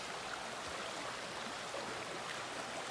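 Broadband rushing water of a river, full and deep with higher water, flowing steadily and close, with no voices over it.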